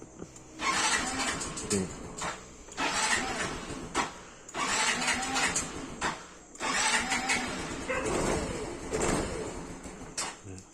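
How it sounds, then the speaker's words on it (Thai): A Yamaha motorcycle engine is cranked and started in several bursts, each a close, loud whirring crank that catches briefly before dropping off, with short gaps between attempts. "เนี่ยก็สตาร์ทได้นะครับ ก็สตาร์ทได้"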